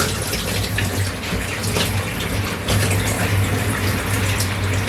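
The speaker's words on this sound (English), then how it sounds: "I'm just going to swash it around to get all of those seeds rinsed off" Water sloshes and swirls continuously inside a jar as wheatgrass seeds are rinsed, a loud, close rushing wash with a low rumbling undertone.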